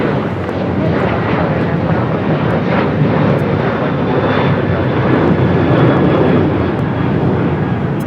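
Jet engines of a Hawaiian Airlines airliner at LAX roar loudly and steadily for several seconds, a dense, close wash of engine noise with no break.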